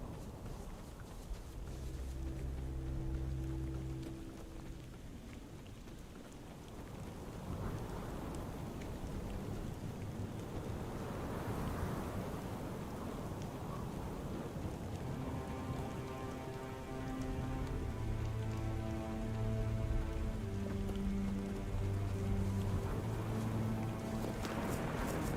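Steady rain pattering in the video game Tainted Grail: Fall of Avalon, a continuous wash of falling drops with low rumbling swells like distant thunder and soft musical notes drifting in.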